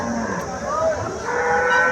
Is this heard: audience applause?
no